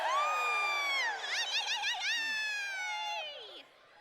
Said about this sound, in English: At the count of 3, I want you guys to all cheer.